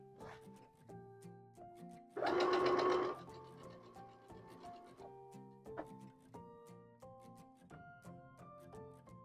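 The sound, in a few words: sewing machine sewing a quilt block seam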